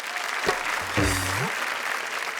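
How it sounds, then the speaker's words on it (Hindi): Audience applause in a Hindi poetry show, with a burst of clapping from the crowd under a faint tonal sweep and some background voices, steady and moderately loud throughout. "एक बार जोरदार तालियां।"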